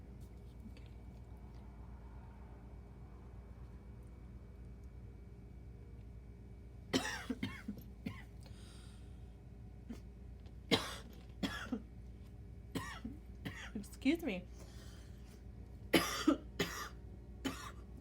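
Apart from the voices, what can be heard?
coughing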